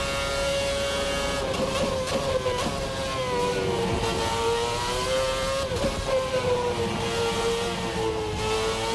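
A Formula RSS 2013 V8 race car in a racing game, its engine screaming at high revs with a steady whine that rises and dips through gear changes, loud and close throughout.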